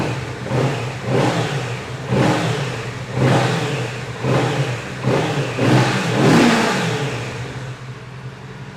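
A 2023 Kawasaki Z motorcycle on its stock exhaust revs hard in a steady series of throttle blips, the engine rising and falling close by over a constant idle rumble, with no talking.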